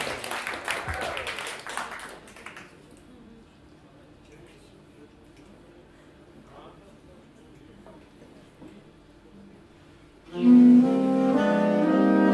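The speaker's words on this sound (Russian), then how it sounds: "Под ваши бурные аплодисменты." Audience applause at a saxophone quartet concert: a short burst of clapping fades out within the first few seconds. A quiet stretch follows, then loud saxophone music begins near the end.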